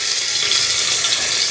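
Garlic frying in mustard oil for a meat curry makes a short, steady, close hiss with an even loudness throughout and no talking.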